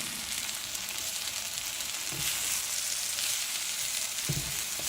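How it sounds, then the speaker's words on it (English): Frozen scraped coconut cooks with moringa leaves in a pan, giving a dense, even sizzling hiss that runs steadily throughout, with a couple of soft stirring knocks. "since I have only frozen coconut, I'm just cooking it a little."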